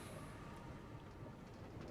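A minecart rolls along rails in Minecraft, a steady, dense rumbling clatter that holds evenly through the whole stretch with no voices over it.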